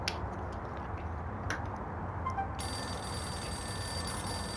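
A payphone rings in the Max Payne video game, a faint, bright repeating ring over a low steady hum.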